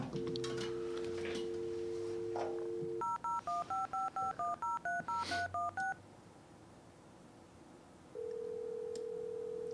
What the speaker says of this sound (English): I can phone up Stone Cold Steve Austin on the dial phone.